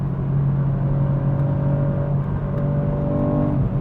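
A Ford Puma ST three-cylinder engine with an active exhaust flap holds a steady, loud drone with a strong low tone, its pitch shifting slightly as the revs vary, with a whirring undertone throughout and no talking.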